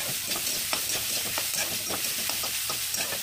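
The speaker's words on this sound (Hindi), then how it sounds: "तेल गर्म हो गया है तो हम इसमें गाजर को डाल देंगे।" Carrots frying in hot mustard oil in a kadai, a soft steady sizzle and hiss with repeated light stirring scrapes at an even pace, close and fairly quiet with no talking.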